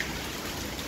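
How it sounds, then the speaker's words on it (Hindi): Hail falls outside in Dehradun, a brief steady patter and hiss heard alone at moderate distance without any voices. "आप देखिए बाहर, देखिए बहुत ज़्यादा ओले पड़ रहे हैं"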